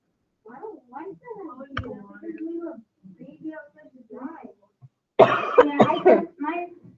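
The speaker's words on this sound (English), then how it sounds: "I'm going to drink water and hopefully clear my throat" A person talks in short bursts, then gives a sudden loud throat-clearing cough, followed by more speech.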